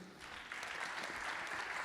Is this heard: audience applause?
yes